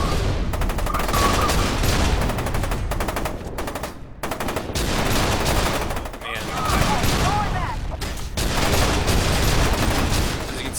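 Continuous heavy automatic turret fire in the video game FEAR 2, a dense unbroken stream of loud shots with only brief dips, layered over battle noise.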